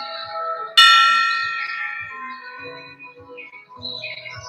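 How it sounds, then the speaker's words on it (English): A single bright bell is struck once, loud and close, its ringing tone slowly decaying over several seconds while faint, steady low thumps pulse in the background. "Ring that bell."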